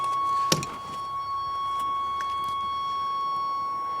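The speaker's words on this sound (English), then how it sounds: "Got that annoying beeping, sorry for that." A 1988 Chevy truck cabin gives off a steady, high electronic warning beep that holds one tone without a break, with a sharp knock near the start and a low idle rumble beneath.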